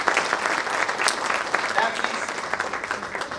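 Dense, steady applause from a gathered audience welcoming the chief guest at a speakers' club anniversary celebration, filling the whole stretch at an even level.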